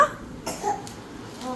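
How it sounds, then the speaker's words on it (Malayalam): A few short, soft coughs, quiet and close, spaced out over a second and a half. "ചുമയാ"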